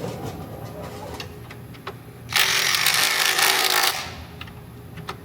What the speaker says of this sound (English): So now I'm going to go to the other side and tighten it up.